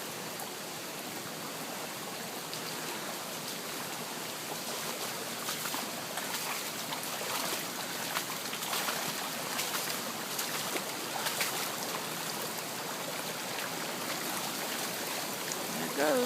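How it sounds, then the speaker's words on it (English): Floodwater pours over waterfalls during a 500-year flood, a steady broadband rushing roar heard from a distance, continuous and fairly soft throughout. "And there's the waterfalls over there."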